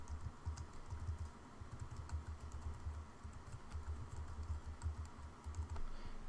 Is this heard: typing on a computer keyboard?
yes